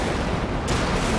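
A Harpoon missile launching from the battleship USS Iowa in a naval combat game: a dense, loud rushing roar with a sudden burst of added hiss midway, sustained and close.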